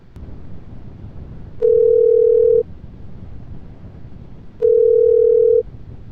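Two long steady ringback tones of a Korean telephone call connecting, each about one second, separated by a pause, clear and loud over faint line hiss.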